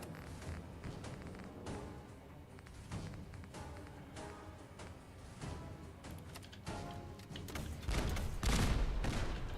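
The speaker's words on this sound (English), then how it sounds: "Shooting everything I have at this guy." Sustained gunfire from the video game Fallout 4, with dense repeated shots and bursts throughout, growing heavier and louder toward the end, no talking.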